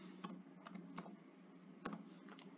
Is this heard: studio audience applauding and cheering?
no